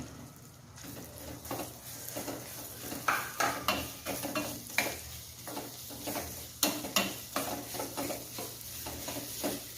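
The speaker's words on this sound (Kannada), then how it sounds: "ಈಗ ಇದಕ್ಕೆ ನಾನು ಕಟ್ ಮಾಡ್ಕೊಂಡಿರುವಂಥ ಈರುಳ್ಳಿ ಹಾಕ್ತಾ ಇದ್ದೀನಿ" Chopped onions sizzle in hot oil in a pan for chavalikai palya, with a spatula scraping and stirring in irregular close strokes over a steady frying hiss; no talking.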